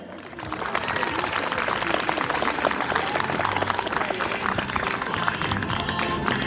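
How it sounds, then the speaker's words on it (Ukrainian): An audience applauds at the opening of a vertep nativity-play festival in the Starosambir community, with dense, sustained clapping that holds steady and fairly loud for the whole stretch. "І я хочу, щоб ви зараз своїми оплесками подякували найкращій армії світу"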